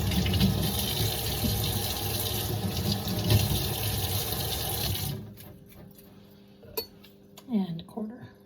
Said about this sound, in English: I'm going to do a rinse.